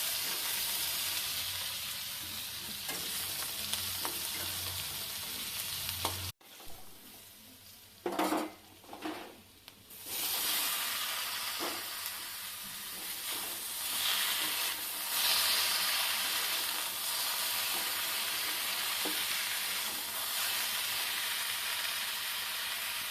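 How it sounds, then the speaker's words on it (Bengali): Cumin, garam masala and dried red chillies crackle in hot oil for tempering, a dense, loud sizzle throughout, broken once by a brief pause and a few spoon scrapes against the pan. "জিরে, গরম মশলা, শুকনো লঙ্কা দিয়ে সোমবারা দিচ্ছি"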